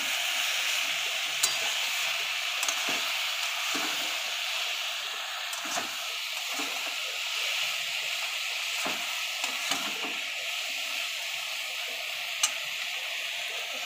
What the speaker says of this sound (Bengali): কচুর শাকের পরিমাণ মতো একটু লবণ দিয়ে নেব, পরিমাণ মতো হলুদ দিয়ে ভালো করে নাড়িয়ে চাড়িয়ে দেবো।